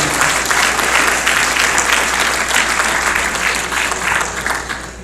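Dense, sustained applause from a fundraiser audience fills the room loudly and steadily, with a faint hum underneath and no clear talk.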